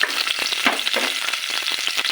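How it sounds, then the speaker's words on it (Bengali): Vegetables sauté in hot oil left from frying chilies and lentil dumplings, with a steady close sizzle broken by stirring scrapes of a spatula in the pan. "দিয়ে সবজিটা কষাই নেব ওই জন্য দিয়া। আর এতে কিন্তু মরিচ বড়ি ভাজা তেল ছিল, তার মধ্যে আমি একটু তেল দিয়ে দিব।"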